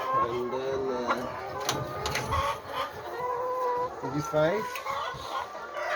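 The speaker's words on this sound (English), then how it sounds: "Yes, good chicken." Chickens cluck and squawk repeatedly at close range inside a chicken farm in South Korea, with a person speaking briefly over the busy, overlapping calls.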